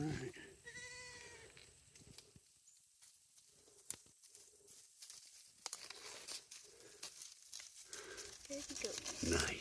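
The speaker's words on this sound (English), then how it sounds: "Baby goat. Nice. Baby goats." Baby goats bleat on a farm during an outdoor mushroom foraging walk, a few wavering bleats early on, then rustling and handling noises nearby, with faint background sounds.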